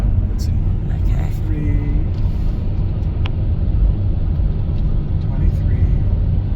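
Car engine held in second gear at about 25 mph while descending a winding mountain road without braking, a steady loud low rumble throughout with faint higher tones drifting over it.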